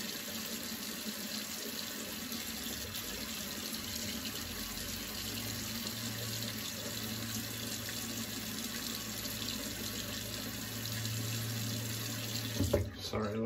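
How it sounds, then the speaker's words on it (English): Water runs steadily from a faucet in a home bathroom during a wet shave, a constant close hiss and splash with no pauses, ending with a brief clatter at the finish. "Sorry, I left a faucet running."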